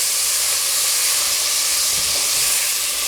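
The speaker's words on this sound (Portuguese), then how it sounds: "Coloco a cebola, dou uma misturada e vou deixar essa cebola também dar uma murchadinha" Chopped onion sautés in a hot pan for a Brazilian refogado base, making a loud, continuous sizzling hiss that stays constant close up, with no speech.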